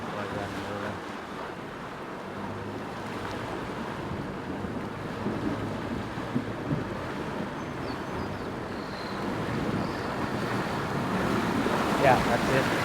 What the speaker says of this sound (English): that was the deepest crossing for the petrol patrol